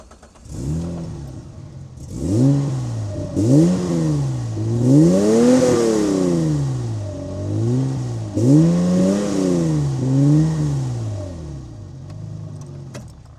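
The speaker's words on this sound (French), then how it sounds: "je vais vous faire écouter ce petit V6 de l'A310" Alpine A310 V6 engine revved several times up close, loud swelling throttle blips that rise and fall in quick succession over a steady idle, with no voices.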